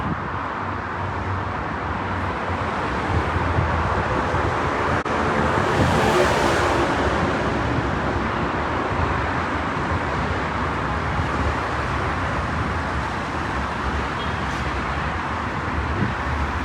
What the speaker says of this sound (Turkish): Ankara'daki trafiğin yoğunluğunu da görüyoruz.